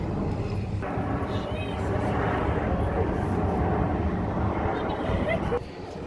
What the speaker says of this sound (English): obviously some RAF plane flying over.